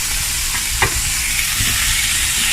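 Onions frying in oil in a pan, a steady close sizzle with occasional stirring scrapes and no talking.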